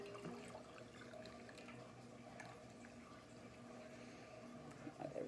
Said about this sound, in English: the top part, I'm just gonna top off with some hot water